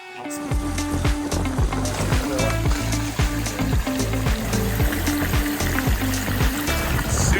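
A backyard walk-up waterfall water feature pours steadily, continuous splashing and trickling close by with a rhythmic pulsing undertone, no voices.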